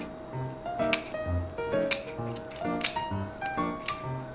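Repeated snipping of scissors through something hard and crunchy, several sharp cuts in an irregular rhythm, close up with no talking.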